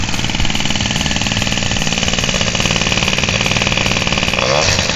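A tuned motorcycle engine and exhaust roar close and loud in a steady, pulsing rasp that holds level for the full five seconds without fading away.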